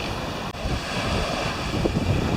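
Waves wash steadily onto the sandy beach of Koh Khai island, a loud continuous surf roar mixed with wind buffeting the microphone and no voices.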